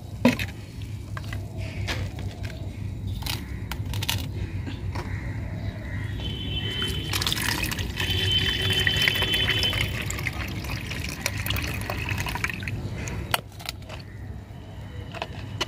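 Liquid fertilizer is mixed with about two litres of water for growing land lotus, with intermittent sloshing and pouring, light clinks and splashes, and a busier stretch of stirring and pouring midway.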